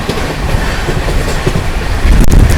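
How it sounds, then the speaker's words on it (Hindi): Rajdhani Express running parallel to and overtaking the Gorakhpur LTT Express, heard as a steady loud rumble of rolling train wheels with rhythmic clatter that swells louder near the end. "Overtaking Gorakhpur LTT express parallelly CR राजधानी का हो रहा भाई।"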